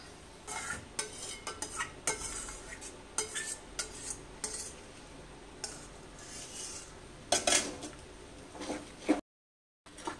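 Boiled hog plum (amra) pulp being stirred in a pan for a jelly-chutney, with repeated close spoon-against-pan scrapes and clinks in an irregular rhythm, ending in a brief silence.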